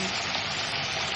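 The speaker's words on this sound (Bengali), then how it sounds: "কড়াইতে তেল দিয়ে শুকনো লঙ্কা ফোড়ন দিয়ে দিলাম, এবার ছেড়ে দেবো ফুলকপি" Cauliflower frying in hot oil with dried red chillies in a wok, giving a steady, close, loud sizzle with no break and no voices.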